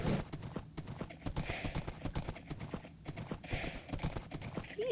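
Horse hooves clip-clop in Minecraft survival mode, a quick, steady stream of hollow knocking steps at close range throughout, with faint game ambience underneath.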